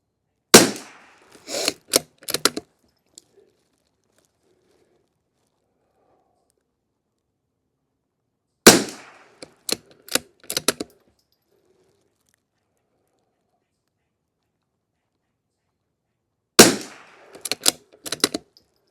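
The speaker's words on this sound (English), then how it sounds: "That's how all this ammo should be shooting." Savage Mk II FV rifle with a freshly redone crown firing three separate strings of shots outdoors, each a sharp loud crack followed by a few quicker reports, separated by long quiet gaps.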